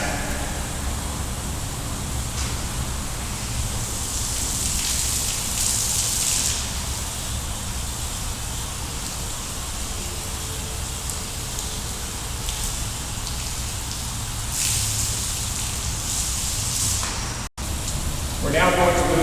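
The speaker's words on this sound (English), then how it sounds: "I'm going to rinse this section" Water spraying to rinse a section of a car wash bay, a continuous hissing rush like heavy rain that holds steady throughout, with brief louder bursts and a short cut near the end.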